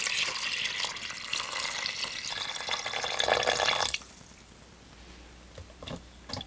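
Salted water poured over soaked grains for Korean five-grain rice, a bright splashing pour for about four seconds, then quiet with a few small clinks and drips.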